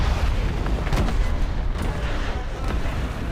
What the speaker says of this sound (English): That was a beautiful explosion right in the ammo.